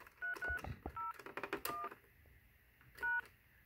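DTMF touch-tone dialing on a Northern Telecom DMS10 telephone exchange: a series of short, distinct beeps in irregular succession, with a final tone after a pause, fairly faint.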